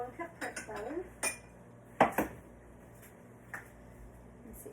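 A one-cup prep bowl is set onto a small kitchen scale, giving a couple of sharp clinks among lighter dish and utensil clatter in a quiet kitchen.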